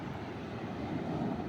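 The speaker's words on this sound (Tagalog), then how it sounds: "Nandito na tayo sa malalaking alon." Large sea waves rolling onto the shore at dusk, a steady low wash and rumble with wind buffeting the microphone, moderately loud and without talk.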